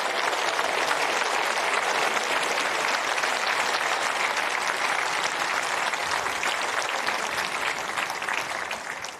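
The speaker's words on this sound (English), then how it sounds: "please may we have another round of applause at the end of a grueling" A crowd in a snooker arena applauds after a final, a dense, steady wash of clapping that continues evenly throughout and eases off slightly at the end.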